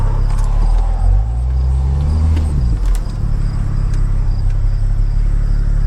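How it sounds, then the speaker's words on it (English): A single car passes along a residential street beside a laneway, a low engine and tyre rumble rising and falling over a couple of seconds against steady insect chirping, with no one talking. "I'm gonna wait until this car passes"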